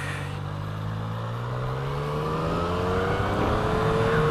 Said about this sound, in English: It's got a nice sort of triple growl to it.